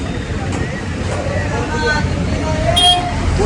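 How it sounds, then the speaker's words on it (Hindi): Vehicles pass along a busy street by a food stall in Rajsamand, with a steady roadway roar, a few short horn toots and background chatter of voices. "यहाँ पे थोड़ी गाड़ियों की आवाज़ आ रही"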